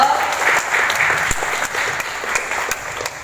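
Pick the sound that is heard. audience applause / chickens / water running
audience applause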